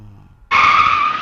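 After a moment of near silence, a small electric motor abruptly whirs on with a close, steady high-pitched whine as the power side mirrors of an Isuzu MU-X Active SUV fold.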